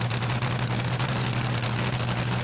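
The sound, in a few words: drag racing engine with blower revving, throttle whacked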